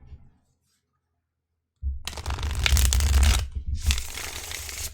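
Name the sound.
tarot cards being shuffled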